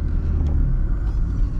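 A 1994 Daewoo Espero car engine drones steadily from inside the cabin while the car drives up a hill, a continuous low rumble with road noise and no talk.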